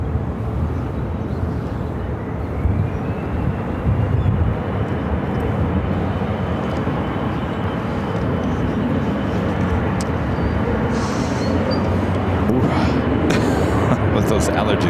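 Airliner taking off on runway 25 right at Phoenix airport: a steady, loud broadband jet roar holding level through the whole stretch, with faint radio voices over it.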